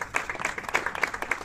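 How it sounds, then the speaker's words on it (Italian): A small group claps at a Trenitalia train handover event in Veneto, a short burst of distinct, uneven hand claps close by, lasting about a second and a half. "veramente un applauso se lo meritano"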